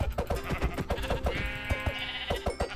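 Sheep bleating in the Minecraft video game, one drawn-out bleat over busy, rhythmic game noise with repeated thumping steps and clicks.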